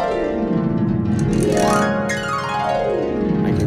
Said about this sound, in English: So I'm playing that harp.